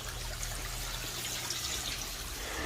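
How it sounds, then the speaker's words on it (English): A small pump-fed waterfall in a garden fish pond trickles steadily, making a soft, continuous splashing wash with no breaks. "we have a nice little waterfall right there"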